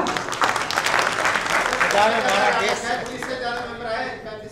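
Audience clapping for Rajasthan during a speech at a Voice of Media convention in Delhi, with a burst of applause from the crowd that fades out as a voice starts speaking over it.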